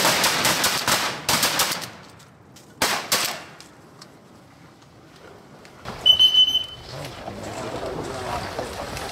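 Shotgun shots ring out during a duck hunt in Arkansas as two clusters of sharp, loud, close blasts in quick succession, followed by quieter outdoor sound and a brief call, with someone speaking.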